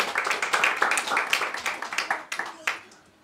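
Audience clapping to welcome a reader at a Latgalian prose reading event, a moderately sized round of hand claps that thins out toward the end.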